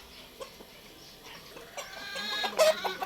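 White Kelso rooster and chickens cluck softly at a distance, with scattered sharper squawks building toward the end amid quiet farmyard background.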